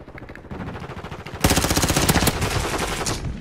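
Rapid automatic gunfire in Call of Duty Modern Warfare 2 multiplayer, a continuous rattling burst that grows louder and denser halfway through, close and sustained.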